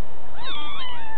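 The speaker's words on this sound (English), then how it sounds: "Meow, meow." A white kitten with a gray tail and gray ears gives a single high, wavering meow, close and clear.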